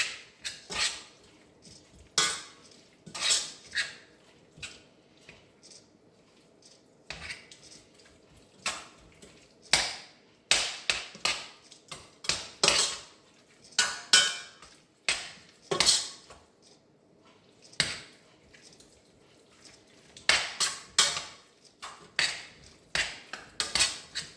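Tuna pie filling mixed in a heated pan, a spoon scraping and clinking against the metal in irregular bursts of strokes with short pauses, close and fairly loud, no talk.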